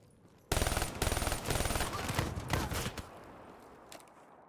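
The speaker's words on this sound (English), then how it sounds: "This is a burst fire LMG?" Burst-fire LMG gunfire in Call of Duty rattles out in rapid, loud, close volleys for about two and a half seconds, then stops abruptly, leaving a faint tail and a stray shot.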